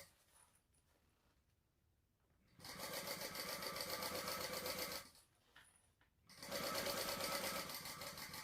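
A sewing machine bastes the raw edges of fabric pieces together for a Rayna baby sling. Two steady, loud runs of stitching of about two and a half seconds each are separated by a quiet pause, with no talking.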